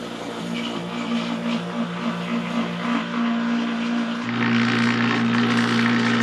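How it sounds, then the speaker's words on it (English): A vacuum pump runs on a cylinder head port of a 2008 Acura MDX during valve seat cutting. It makes a steady, close droning hum that steps up louder and fuller about two thirds of the way through. "I'm going to turn the pump on."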